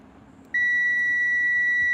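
A multimeter in continuity mode, testing a wire, emits a sharp, steady high-pitched beep that starts abruptly after a half-second of quiet and holds continuously, close and clear with no talking.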